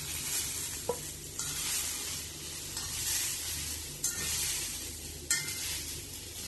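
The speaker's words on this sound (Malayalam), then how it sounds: "ഇപ്പൊ തക്കാളിയും വഴറ്റിയിട്ടായിട്ടുണ്ട്" Chopped tomatoes sautéing in a hot pan for a chutney give off a steady, close sizzle, with a few sharp scrapes of stirring cutting through the frying hiss. No one speaks.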